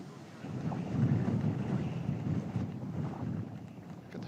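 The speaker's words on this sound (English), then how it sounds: "Look at the flag whipping there. You can hear it as well." Gusty wind sweeps across a golf course during a women's amateur championship match, with a flag whipping in roughly 20 mph gusts: a steady, loud, rumbling roar that swells and eases.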